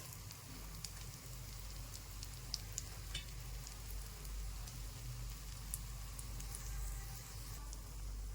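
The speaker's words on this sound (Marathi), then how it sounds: "आता त्याला थोडंसं शाडो फ्राय होऊ देऊ" Potato slices shallow frying in a pan, a soft continuous sizzle with scattered light crackles and pops, faint and steady with a low hum underneath.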